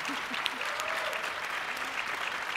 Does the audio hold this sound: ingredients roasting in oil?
no